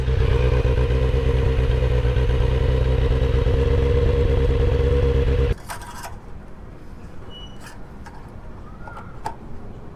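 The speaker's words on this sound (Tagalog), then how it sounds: "Ito ang tunog niya kapag walang exhaust." Kawasaki Z900 motorcycle engine idling with no exhaust fitted, a loud, raw, steady rumble with clattery ticking for about five and a half seconds, then cutting off abruptly to quiet background with a few faint clicks.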